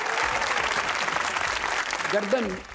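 Studio audience applause on a Pakistani comedy talk show, a steady dense wash of clapping for under three seconds, with a brief voice rising over it near the end.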